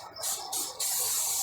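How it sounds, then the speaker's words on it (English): Cooking spray hisses from an aerosol can over a hot Char-Griller Legacy grill in three short bursts, the last one held longer, close and loud. "And then I got my cooking spray."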